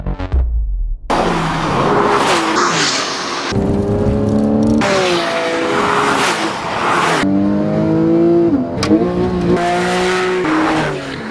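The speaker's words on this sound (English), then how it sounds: "they give the 911's direct injection boxer engine and its new 7-speed manual and PDK gearboxes a strenuous workout on twisting mountain roadways" Direct-injection boxer engine of a 2012 Porsche 911 Carrera (991) with 7-speed manual or PDK, revving hard through gear changes on twisting mountain roads, loud and close with repeated rising pitch sweeps and brief tire squeal.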